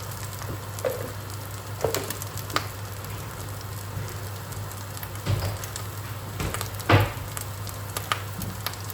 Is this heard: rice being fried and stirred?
yes